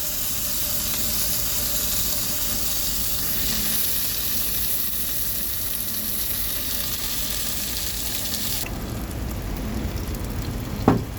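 Onions sauté in a frying pan for a chicken curry, giving a loud, continuous close sizzle with the hiss of steam. Near the end the sizzle drops off abruptly and a brief knock sounds.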